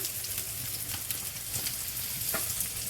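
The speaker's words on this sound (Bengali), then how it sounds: "তেল গরম হয়ে গেলে এবার আমরা পেঁয়াজ দিয়ে দিলাম।" Onions dropped into hot oil for a rohu fish bhuna, crackling in a steady, fairly quiet sizzle with a few sharper pops, close by and with no talking.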